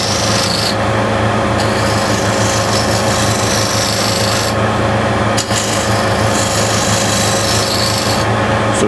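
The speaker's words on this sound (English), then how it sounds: "light touch, you don't want to dig in, just light, and you get this wispy shavings out" A hand scraper takes light passes over wood, pulling off wispy shavings with a loud, continuous rasping scrape repeated in steady strokes close to the microphone.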